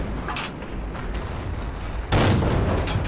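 A Locust tank firing in the World of Tanks video game: faint distant rumbles, then one loud close cannon blast that stays heavy and booming to the end.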